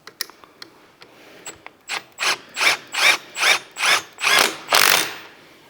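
Ratchet clicking in quick bursts while tightening a rod on a Honda Navi, starting with scattered light clicks, then settling into about eight loud, regular strokes close up, with no talking.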